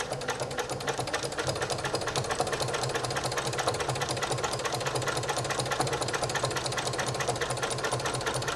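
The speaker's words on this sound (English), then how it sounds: "Just ease your fabric through the walking foot and let it take the fabric." A sewing machine fitted with a walking foot quilts layers of fabric for a potholder, its needle clattering in a fast, steady mechanical rhythm that runs loud and close without pause.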